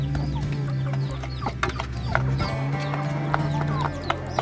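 A group of farmyard chickens clucks in quick uneven bursts, near and fairly loud, with soft knocking sounds and a low steady hum underneath.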